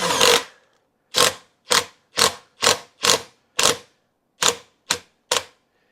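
A RYOBI lag driver sinks a lag screw into wood in about ten short, sharp bursts of rapid impact clatter, each separated by silence, with the first burst longest and the later ones shorter.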